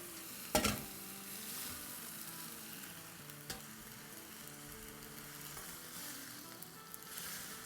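Noodles for mutton and chicken chow mein stirred and frying in a pan, a soft continuous sizzle broken by a few clanks and scrapes of the spoon, close by with no talking.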